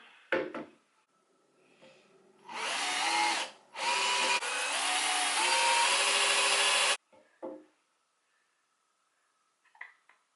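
A power drill whirs in two bursts, the second long and straining as a screw bites into a wooden leg, with brief clunks and handling noises around it.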